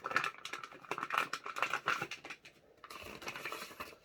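Thin plastic bag packaging around a budget lavalier microphone crinkles and rustles in quick, close crackling bursts, with a brief lull before a softer final run of crinkles.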